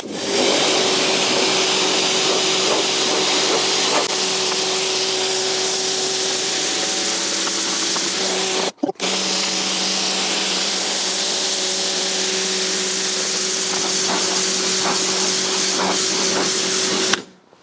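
A Husqvarna pressure washer sprays steadily through a heavy lance, a loud, close, continuous hiss with a constant motor whine underneath, broken once by a brief pause mid-way before resuming.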